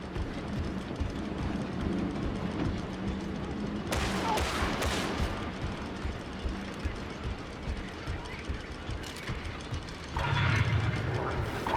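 Gunfire in Warhammer Darktide, with bursts of rapid shots and mechanical clatter over a busy battle din, separated by quieter stretches as voices call out.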